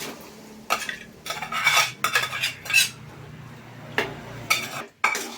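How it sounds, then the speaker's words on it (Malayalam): A metal spoon clinks and scrapes against a pan as cooked liver is tipped into sautéed onions and stirred, with bursts of clattering utensil strokes over a faint sizzle, alone without talk. "ഇനി ഇപ്പം നമ്മൾ ഈ വഴറ്റി വെച്ചിരിക്കുന്ന ഉള്ളിയിലേക്ക് ഇത് ഇട്ട് കൊടുക്കാൻ പോവാണേ"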